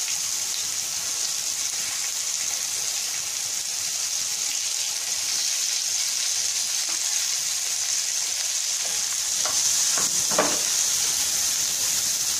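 Carrots stir-fried in a pan for vegetable kababs give a steady, close sizzle of hot oil throughout, with a few sharper crackles and spatters near the end and no talking.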